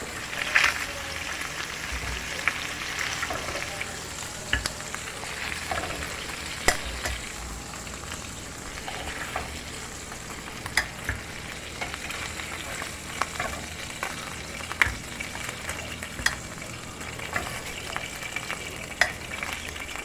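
Oxtail pieces fry in a pan until golden brown, giving a steady, close sizzle with occasional pops and stirring clatter throughout.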